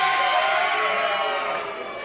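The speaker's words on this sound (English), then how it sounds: "Getting cheers from our crowd." A wrestling show crowd cheers in a sustained, dense roar of many voices that eases off slightly toward the end.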